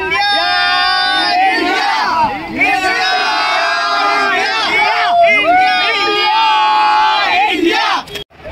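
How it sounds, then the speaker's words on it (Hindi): A dense crowd outside the Raipur cricket stadium before the India vs New Zealand ODI, with many voices chanting and cheering loudly and continuously, and nearby yells rising above the mass. "सिक्स नंबर गेट पे सबसे ज़्यादा भीड़ है"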